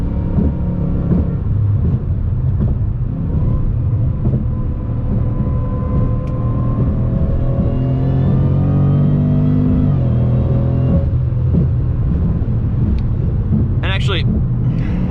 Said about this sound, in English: similar engine noise, obviously, with the supercharger and all that